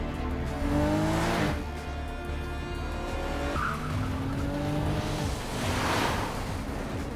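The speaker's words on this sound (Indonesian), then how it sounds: "Mereka semua kejar-kejaran dengan menggunakan mobil masing-masing." Several cars race in a film car chase, with steady engine roar and repeated tire squeals and skids running throughout, loud and continuous with no voices.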